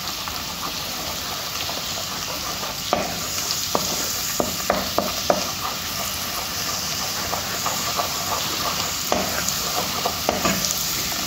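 Lots of garlic sizzles steadily in oil in a pan while a spoon scrapes and stirs it at irregular intervals, with a continuous hiss and clinks spread across the stretch.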